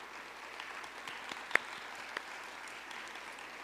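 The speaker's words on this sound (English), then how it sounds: "Choir girls, you may stand briefly and let's applaud them." Faint, sparse clapping from a small audience at a girls' primary school graduation honoring the school choir, a handful of soft scattered claps with one sharper clap in the middle against low room noise.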